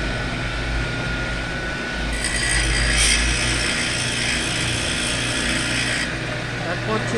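A lathe turns wooden wheels for a miniature farm truck, making a steady droning whir with a rough cutting hiss that grows brighter in the middle stretch, close and continuous, while someone speaks over it.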